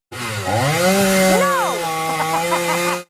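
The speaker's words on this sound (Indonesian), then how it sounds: "Vigilante akan menggunakan gergaji mesin untuk mengalahkan orang-orang yang ada di sana" A chainsaw runs loud and close in a film scene, its motor droning steadily then rising and wavering in pitch as it revs for about three seconds.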